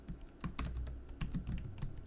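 Quick typing on a computer keyboard, a steady run of close, crisp key clicks and clacks in an uneven rhythm with no voices.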